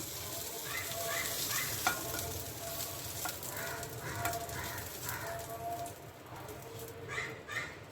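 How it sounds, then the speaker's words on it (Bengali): Capsicum and green chillies frying lightly in a pan, a steady close sizzle with intermittent stirring, while birds chirp faintly in the background. "ক্যাপসিকামের সঙ্গে আমি একটু হালকা ভেজে নেব এই এরকম ভেজেছি"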